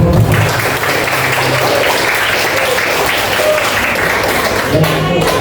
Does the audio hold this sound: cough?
no